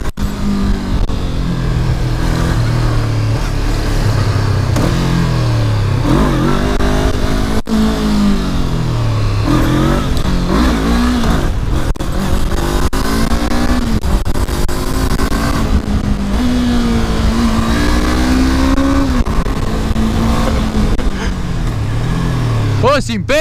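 A Honda CB 500 motorcycle engine revving hard as the bike lifts into a wheelie, a loud rising and falling whine that climbs steadily, with excited talk over it throughout.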